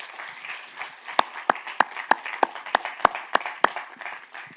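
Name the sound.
applause for the Lord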